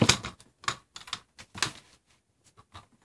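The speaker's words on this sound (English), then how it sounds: "I'm going to cut this off right here." Scissors cutting through a Dollar Tree paper file folder, close crisp snips in irregular strokes, loud at first and then lighter with gaps of quiet between cuts.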